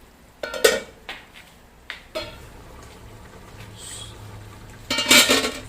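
A metal lid set back onto a cooking pot while vegetables cook, with several sharp close clanks and scrapes of metal on metal, a brief quieter stretch, then a louder rattling clatter as the lid settles.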